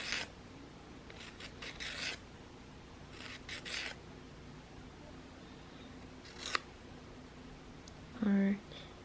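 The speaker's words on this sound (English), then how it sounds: "you can keep filing until you like the shape of it." A nail file scrapes across acrylic nail extensions in a few short raspy bursts, close and soft against a quiet room, with a louder clipped sound near the end.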